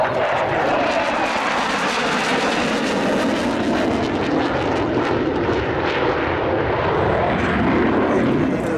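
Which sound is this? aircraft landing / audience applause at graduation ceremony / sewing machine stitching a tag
aircraft landing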